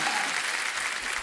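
A studio audience on a comedy talk show bursts into dense, sustained clapping, loud and close throughout.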